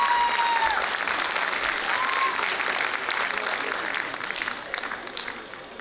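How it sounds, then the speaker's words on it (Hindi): An audience at a school annual day claps in a sustained, dense wave of applause that slowly fades, with a voice faintly audible over it. "लेकिन तालियों के साथ तालियां बजती रहनी चाहिए प्लीज"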